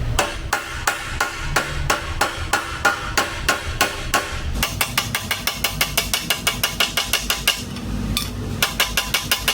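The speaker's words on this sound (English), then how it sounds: "I'm going to play with this a little bit with the hammer and dolly," Hammer and dolly shaping sheet metal on the rusty door jamb of a Chevrolet C10 pickup truck: a long run of sharp, evenly spaced metallic blows, loud and close, quickening to a faster tapping rhythm partway through, with no talking.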